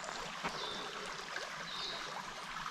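Greenland or Panthertown Creek flows in a soft, steady wash of water, faint and continuous with no breaks.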